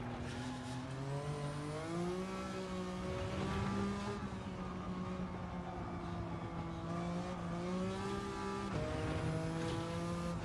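A fully tuned BMW Z4 with racing exhaust and manifold, over 500 horsepower, in Gran Turismo 7, roars loudly and steadily, its engine note climbing and dropping through gear changes with no talk.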